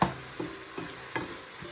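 Minced meat frying for chilli con carne, stirred in a pan with four regular scrapes of the spoon about every 0.4 seconds over a soft, steady sizzle.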